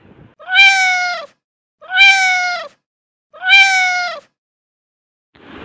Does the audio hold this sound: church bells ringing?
no